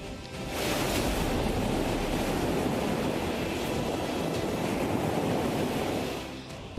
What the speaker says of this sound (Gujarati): રહેણાંક વિસ્તારમાં વહ્યો પાણીનો પ્રચંડ પ્રવાહ